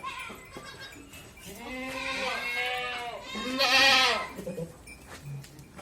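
Breeder goat of about 90–95 kg on an enclosed goat farm bleats in a few wavering, drawn-out cries, fairly close, the last one loudest, over quiet background.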